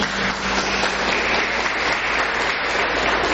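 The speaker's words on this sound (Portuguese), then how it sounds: "Vamos aplaudir esse irmão." Church congregation applauding, an even, continuous patter of many hands clapping at moderate loudness with a faint low hum beneath.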